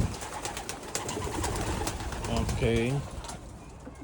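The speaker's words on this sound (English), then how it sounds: "See, that's a young bird." A young pigeon or dove kept in a cage gives a short, soft wavering coo, close by, while a person speaks briefly nearby.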